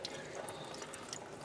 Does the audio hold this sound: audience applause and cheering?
no